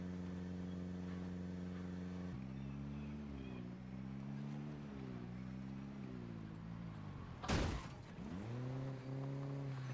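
A car drives in Project Zomboid, a steady engine drone that shifts pitch as it speeds up and slows down, with a sharp bang-like burst partway through. Voices may murmur faintly under it.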